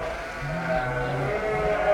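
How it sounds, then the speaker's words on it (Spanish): A Lacha dairy sheep bleats once, a drawn-out wavering call in the middle of the stretch, set against a steady, noisy farm background with no speech. "La lacha es una oveja que no sufre con el frío, pues está protegida por una buena capa de lana"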